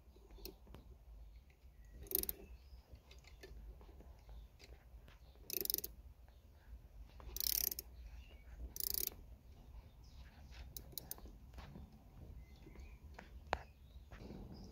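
A handbrake lever on a Honda Accord gives several short bursts of ratchet clicking, close but quiet, separated by pauses, against a faint background.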